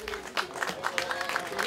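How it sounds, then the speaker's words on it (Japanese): Applause at a kart racing awards ceremony for the top-placed Avanti class drivers, a short run of moderate clapping from a small crowd with a faint voice underneath, somewhat distant. "アバンティクラス上位入賞ドライバーにどうぞ盛大な拍手をお受けください"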